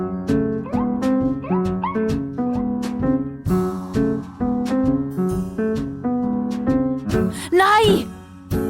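A large dog barks, yips and whimpers in a Swiss children's detective radio play, with a string of short, close, tonal calls and a long wavering whine near the end.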